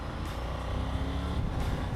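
A Triumph Tiger 900 adventure motorcycle runs with a steady, smooth engine drone, its even low rumble heard up close and continuous, with no one speaking.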